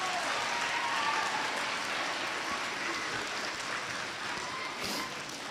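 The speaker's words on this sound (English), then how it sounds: "Can you give them a round of applause?" A school audience gives walkathon helpers a sustained round of applause, a dense, even patter of many hands clapping throughout, heard from a slight distance without clear speech.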